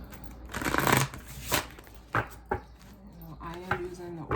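A tarot oracle card deck being split and shuffled by hand, several quick riffling and tapping bursts close up with pauses in between, under a soft musical tone near the end.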